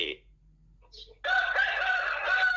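A rooster crows loudly near a house where chickens are raised, one long cock-a-doodle-doo cutting in after a brief quiet stretch with soft background sounds.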